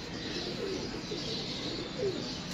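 Pigeons in a loft coo softly at dusk, a few low murmuring calls rising over a steady background hum, close but quiet.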